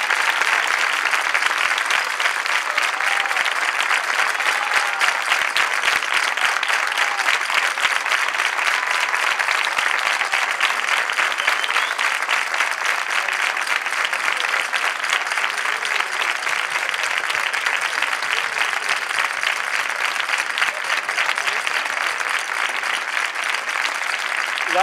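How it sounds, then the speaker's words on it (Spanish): Sustained applause from a large audience, dense and even clapping that carries on without letup for the whole stretch. "Fuerte aplauso, por favor"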